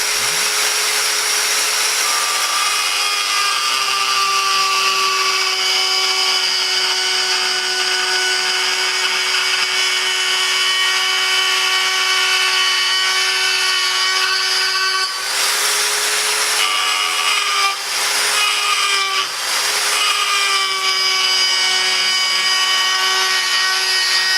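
A Metabo GE710 die grinder runs at a steady high-pitched whine for about twenty seconds, close and loud and alone, with its tone dipping briefly as it bites into material near the end.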